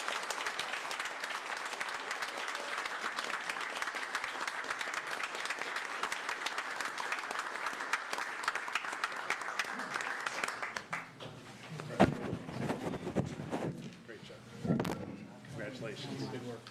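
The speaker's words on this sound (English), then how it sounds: "So if you guys could please give applause for Lieutenant Ben." Audience at a city commission meeting in Largo gives steady, dense applause for about ten seconds, then it dies away into room noise with a few thumps and some voices talking.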